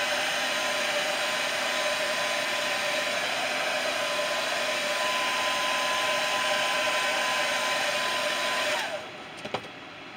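A hair dryer blows steadily and loudly on a freshly painted crankbait fishing lure, a constant whooshing whine that runs for about nine seconds and then cuts off, leaving a brief clatter.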